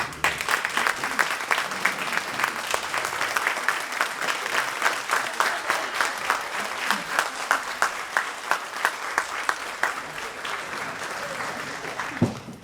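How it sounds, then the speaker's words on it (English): An indoor audience applauds protective services staff at a World Elder Abuse Awareness Day event, sustained steady clapping from a sizable crowd lasting over twelve seconds, fairly even throughout with no talk over it. "Please stand up for a round of applause for what you do every day."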